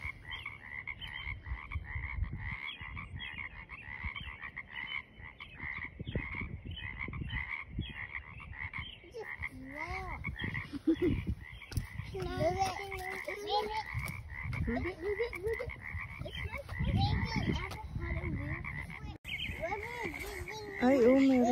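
Frogs croaking outdoors in a residential neighborhood, a steady chorus of repeated calls running throughout at moderate distance, with a person talking over it in the middle stretch.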